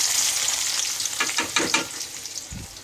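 Chopped onions sizzle and crackle steadily in hot mustard oil for a Bengali goat curry, a close, continuous frying hiss with a soft clink near the end.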